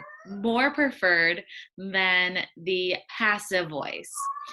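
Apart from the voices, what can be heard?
cat meowing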